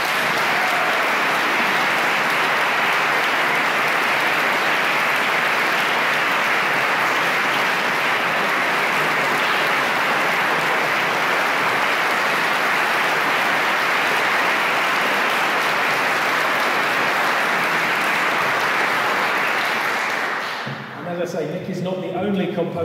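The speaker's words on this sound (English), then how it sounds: "so can we give Nick a round of applause" A concert audience at a Brass For Heroes brass band concert applauds the composer of a new piece in one steady, loud burst of clapping lasting about twenty seconds, fading out at the end.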